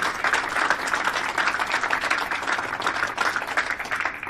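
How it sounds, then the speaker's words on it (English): Audience applauds both players after a professional blackball pool final on the IPA Tour in Newcastle upon Tyne, a steady dense wash of clapping that holds at an even level throughout with no voices. "a round of applause for both players"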